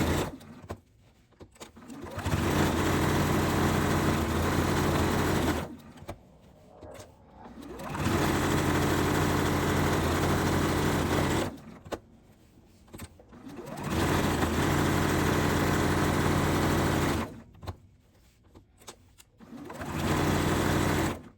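A sewing machine stitches fabric heart coasters made from charm squares, running in long steady bursts of rapid mechanical whirring separated by short pauses.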